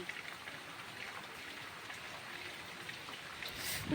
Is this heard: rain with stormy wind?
yes